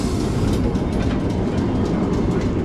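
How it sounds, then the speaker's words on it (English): A vintage tour tram built in 1888 rolls along a Christchurch city street, steady loud rumble with rhythmic clickety-clack of wheels over rail joints, passing close by with no voices. "There's the famous tram, the first sighting"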